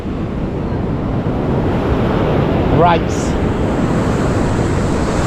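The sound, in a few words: big sea waves around a fishing boat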